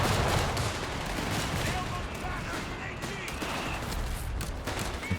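Sustained machine gun bursts roar in the Company of Heroes 3 strategy game, a dense, continuous chatter of gunfire with scattered heavier blasts, loud and close throughout the mix.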